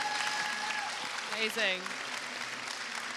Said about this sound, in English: Can we give a round of applause for our panel?